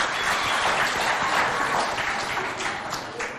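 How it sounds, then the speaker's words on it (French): An audience applauds steadily at a school competition show in Moundou, a dense, even wash of clapping from many hands that holds for a few seconds and eases slightly at the end. "Applaudissez-les bien fort."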